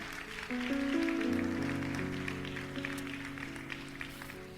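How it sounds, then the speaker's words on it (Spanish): Church audience applauding after a sermon reading, soft, steady clapping rising after a short pause and holding over lingering keyboard chords, fairly distant and quiet. "Dale un fuerte aplauso a la palabra del Señor"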